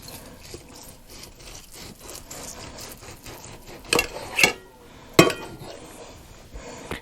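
A knife saws through cooked corned beef on a board, soft repeated scraping strokes with a few sharper clacks of blade against wood, close and fairly quiet.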